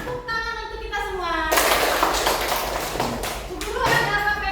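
A classroom of schoolchildren breaks into clapping after a teacher's voice, the claps loud and close with children's voices mixed in and a short rhythmic burst near the end.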